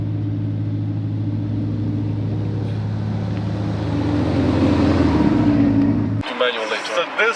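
A Ferrari sports car sits idling with a steady low engine drone that swells as it starts to pull out, then cuts off abruptly before a few seconds of people talking.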